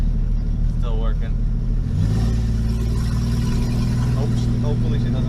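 A 1967 Ford Mustang's engine rumbles loud and steady from inside the car on a joyride, its pitch shifting once as it revs up. A voice talks briefly over the drone.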